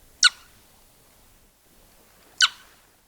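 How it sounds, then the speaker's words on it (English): A boreal owl gives two short, sharp contact calls spaced about two seconds apart, each a quick high-pitched note against quiet background. "a short kip or cue that both males and females use to keep in contact"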